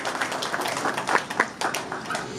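Audience applause at a Malayalam film trailer launch press meet for Devadoothan, a steady wash of many hands clapping with a few sharper claps standing out, moderately loud throughout.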